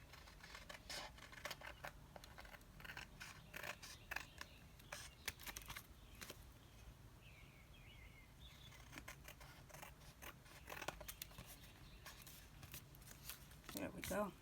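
Scissors trimming excess paper off a handmade card, repeated close snipping and crisp cutting clicks, faint and scattered amid paper rustling.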